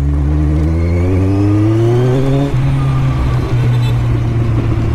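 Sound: Kawasaki Z1000 motorcycle engine revving as it pulls away

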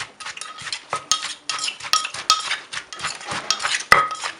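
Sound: pounding cucumber salad with shallots in a mortar

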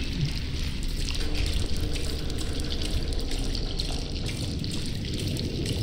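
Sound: dripping ink in the video game Bendy and the Dark Revival

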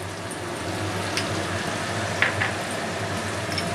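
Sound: garlic paste frying in pan for crab curry

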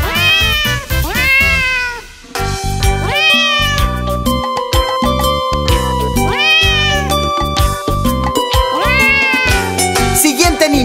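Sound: cat meowing

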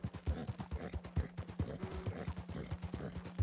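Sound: horse hooves galloping, from a video game

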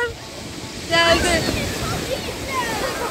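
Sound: sea waves washing up onto a sandy beach

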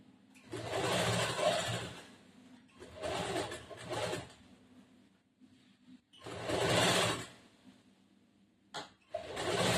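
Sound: sewing machine stitching side seam of cross-cut blouse

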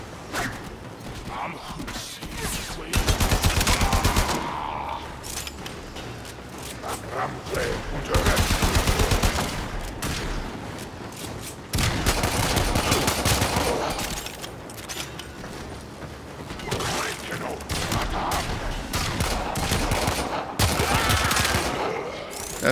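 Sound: pistol gunfire from Warframe video game

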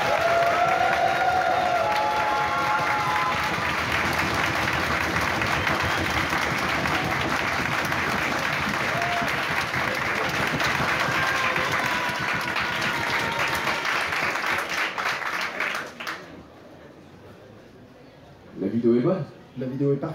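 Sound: audience applause for costume contest entrants

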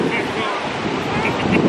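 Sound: sea waves at Kure Beach

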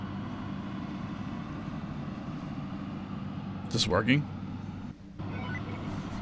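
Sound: ferry boat engine running in a video game

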